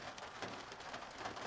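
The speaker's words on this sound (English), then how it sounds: "This little rain is supposed to blow through pretty quick." Light rain falls steadily outdoors with a soft, even hiss of drops and no voices.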